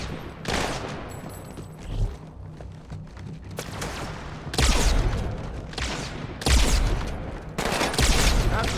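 Loud bursts of automatic weapon fire from a Halo game come in several heavy volleys separated by brief lulls, close and continuous, with no talking.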